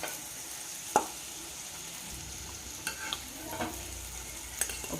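Cluster beans with tamarind fry quietly in a pan, giving a soft, steady sizzle with a few scattered clicks and stirring taps over the five seconds.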